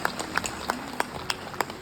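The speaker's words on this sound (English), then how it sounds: "a big round of applause for the guest of honor" Scattered, light claps in a thin, uneven rhythm, a small group applauding a guest of honor at a distance during a felicitation event in Tura.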